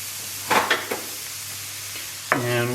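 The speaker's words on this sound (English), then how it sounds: "And we're going to stir this around and kind of lightly brown them." Apples cooking in melted butter in a pan make a soft, steady sizzle, broken by a few distinct scraping strokes of a utensil and a squeaky drag near the end.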